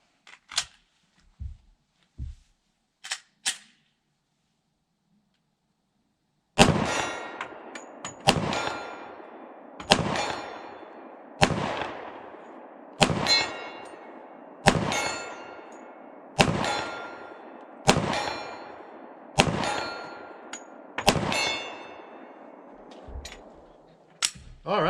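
A Smith & Wesson M2.0 10mm pistol fires a string of about a dozen evenly spaced shots at a 40-yard steel plate, each crack followed by a ringing metallic clang, after a few quieter shots at the start.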